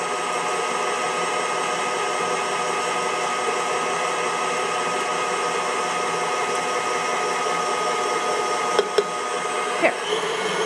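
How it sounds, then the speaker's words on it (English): An electric mixer beats sugar into batter for a strawberry charlotte, a steady loud whir held without a break, with a couple of brief clicks near the end. "I'm going to just let this continue beating until it's light and lemon colored"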